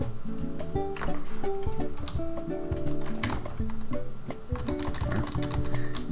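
Drum loop in which the closed hi-hats are sped up to 16th notes, giving a dense, steady ticking pattern over thumping beats, continuous and fairly loud with no voices.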